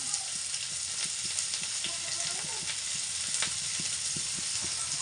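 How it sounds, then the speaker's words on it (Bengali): Chopped onion and green chili fry in hot oil, giving a constant bright sizzle. A spatula scrapes and taps against the pan in a regular rhythm throughout, and nobody speaks. "পেঁয়াজ কুচি লঙ্কা কুচি দিয়ে ভেজে নিচ্ছি"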